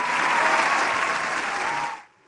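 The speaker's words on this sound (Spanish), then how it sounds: "Fuerte el aplauso para Jazmín." An audience at a live show breaks into loud, dense applause that holds steady for about two seconds, then cuts off abruptly into near silence.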